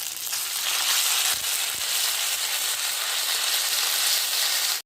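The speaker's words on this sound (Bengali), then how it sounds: "এবার প্রথমে মশলাটা একটু কষিয়ে নেব" Ground spice paste with coriander fries in a pan, producing a loud, dense, even sizzle and hiss throughout, with a couple of brief thuds partway through.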